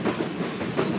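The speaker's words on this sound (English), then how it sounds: "we're having a blast on the train, me and Lukey." Wilmington Western Railroad open-air railroad car in motion, with a loud steady rumble of wheels on track and rhythmic clickety-clack, heard up close with no voices.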